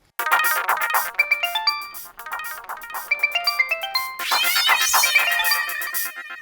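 A mobile phone ringtone chimes out a bright, repeating electronic melody of quick stepping notes, loud and close, playing on its own for several seconds.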